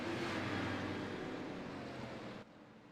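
Super late model race cars roaring back to speed on the Hickory track at a restart, a dense, loud engine rumble that fades slightly before dropping off abruptly near the end.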